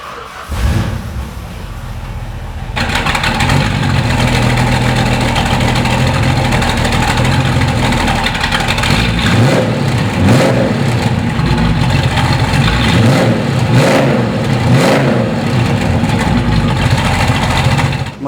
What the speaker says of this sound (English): so how about I go ahead and start it for you